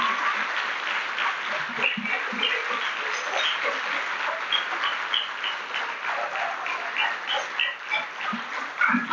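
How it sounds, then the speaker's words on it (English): Seminar audience breaks into sustained applause to welcome the guest of honor, a dense, even patter of many hands clapping throughout, fairly close and steady. "I request everyone to welcome them by giving a big round of applause"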